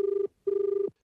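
A telephone rings for a radio phone-in call in Pune, two short electronic trill bursts close together and clearly heard alone, with a brief gap between them.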